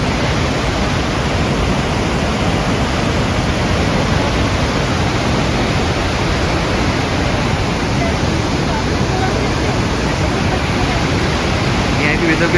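Rushing water where the Saraswati and Alaknanda rivers meet near Bhim Pul, a loud, dense, steady roar that fills the whole stretch without a break.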